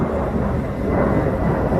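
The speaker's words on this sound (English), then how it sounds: "That yellow plane." A yellow airplane passes overhead, a loud, steady low roar of engine drone filling the whole moment with no other sounds.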